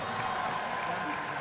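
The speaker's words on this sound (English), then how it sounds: "Everybody clap for Evan Lazama" A graduating crowd at the 2014 Wayzata High School commencement breaks into steady, dense applause, a continuous wash of many hands clapping at once with a murmur of voices mixed in.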